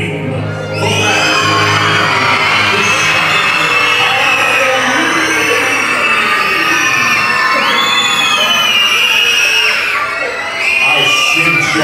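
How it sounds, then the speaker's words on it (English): A crowd at a Halloween show aboard the Disney Magic cruise ship screams, shouts and cheers loudly and continuously, with high children's voices and whoops rising above the roar. "So rise up your voices. Let me hear a loud scream for that."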